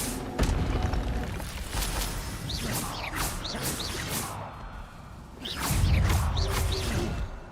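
Fire spell cast in Hogwarts Legacy: whooshing bursts and deep booms with crashing impacts, loud and near, swelling into a heavier rumble near the end, with game effects layered over it.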